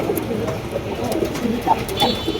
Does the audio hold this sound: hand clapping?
no